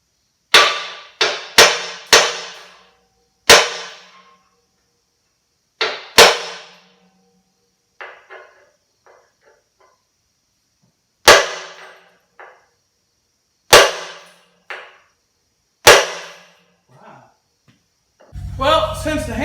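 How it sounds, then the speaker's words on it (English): A hammer striking a punch to knock bolts out of an aluminum ramp: a string of sharp metallic clangs, some in quick pairs and triplets, others spaced apart, each ringing briefly before fading, with softer taps between. "So I'm going to get a punch and a hammer. I'm going to knock the bolts out"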